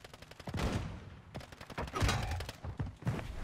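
Rapid bursts of Call of Duty gunfire crackle in quick volleys, with a few heavier thumps mixed in, loud and dense throughout.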